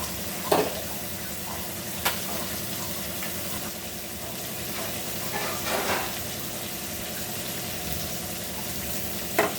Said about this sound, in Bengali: মাছগুলি এটি টপিট করে হালকা ভেজে নিতে হবে